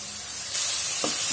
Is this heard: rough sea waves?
no